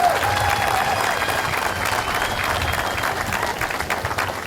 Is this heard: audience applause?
yes